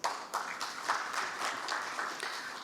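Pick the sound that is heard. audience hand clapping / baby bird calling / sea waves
audience hand clapping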